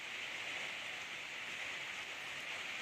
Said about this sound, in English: But it's very windy and rainy and she doesn't like it.